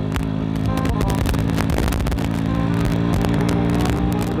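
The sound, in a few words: old motorcycle riding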